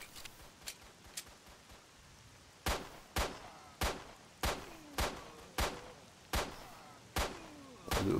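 Gunfire aimed at zombies in S.T.A.L.K.E.R. Shadow of Chernobyl: a few faint early shots, then a run of about ten sharp, loud gunshots at a steady rhythm, each with a short ringing tail.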